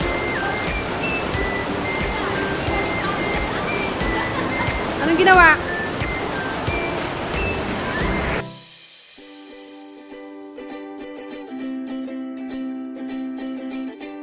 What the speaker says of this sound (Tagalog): Ang ganda ng agos ng tubig